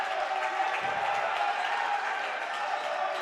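Basketball game crowd, with the spectators on their feet, keeping up a steady, loud roar of cheering and applause throughout.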